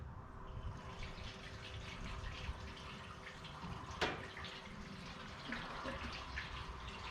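Liquid poured into a mixing container while preparing a KBS gas tank coating, a steady close splashing flow with a brief sharp knock midway, in a garage workshop.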